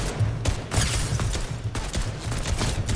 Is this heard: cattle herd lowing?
no